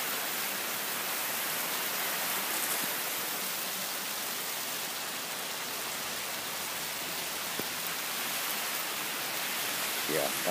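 Steady rain falls outdoors as an even, dense hiss with no breaks, close and constant throughout.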